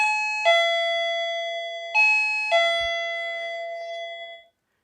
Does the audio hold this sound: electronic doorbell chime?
yes